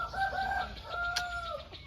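A rooster crows among chickens on a rural Thai village farm, a clear drawn-out cock-a-doodle-doo over faint background clucking, with no speech.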